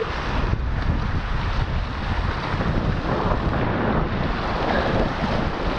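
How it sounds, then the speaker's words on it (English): Strong wind roars at Grandaddy Lake near choppy water. The rushing noise is loud, steady and close, with no talk over it. "the wind is going crazy"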